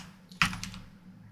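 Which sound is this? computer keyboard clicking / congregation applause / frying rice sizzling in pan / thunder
computer keyboard clicking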